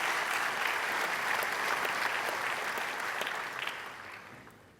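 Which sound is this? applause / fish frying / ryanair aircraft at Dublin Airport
applause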